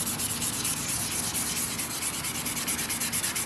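Steady, close sanding on a Magnalite aluminium pot, a continuous rough rubbing scrape with quick repeated strokes, loud and alone.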